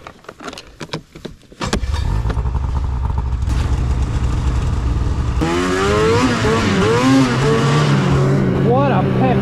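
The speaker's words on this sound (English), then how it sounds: "What a peppy little engine." Arctic Cat Catalyst snowmobile engine running steadily and loud close by, its low drone rising in pitch as the throttle opens, with people talking over it in the second half.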